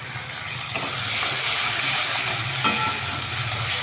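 Soybean masala with tomato and ginger frying in a pan, a soft continuous sizzle and hiss at moderate distance with faint stirring scrapes.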